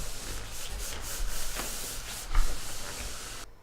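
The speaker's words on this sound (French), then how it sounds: "Et frotte tout de suite, du milieu vers l'extérieur." PVC floor covering being rubbed down by hand from the middle outward, a steady soft scuffing friction that swells briefly in a few places, with no voices.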